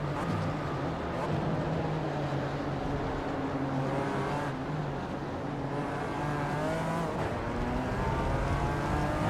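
A BMW M race car held in a long sixth gear in the iRacing sim, its engine a continuous loud drone with a steady pitch and slight rises, heard alone without talk.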